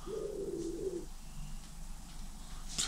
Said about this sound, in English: Got pigeons now.